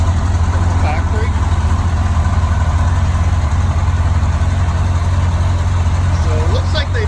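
A Kawasaki ZX10R Ninja sport motorcycle on its stock exhaust sits at idle with a steady, loud, low engine rumble that holds constant throughout. A voice talks over it at times.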